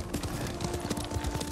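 Horse hooves clip-clop at a steady riding gait in the Ghost of Tsushima video game, an even rhythm of fairly close thuds with a faint sustained tone beneath.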